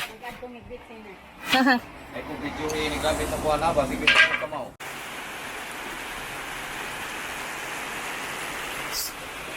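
Steady, dense rain pours down in a continuous hiss on a building site in Cebu, Philippines, following a stretch of clattering and voices near the start.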